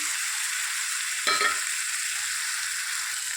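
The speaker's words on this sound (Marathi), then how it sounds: "आता यात मी हे वांग्याचं भरीत टाकतो" Mashed roasted eggplant bharit is tipped into a hot spiced pan with chilli powder and turmeric, giving a steady frying hiss with one brief soft thud and scrape as it lands, no voices.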